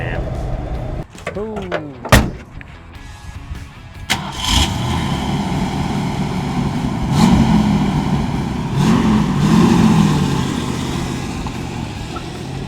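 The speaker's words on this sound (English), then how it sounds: "Ready for a good old-fashioned startup?" A 1967 Ford Mustang with a 289 V8 cranks and fires after a door thump, then settles into a steady, loud idle with two swelling revs. A short exclamation is heard over the starter.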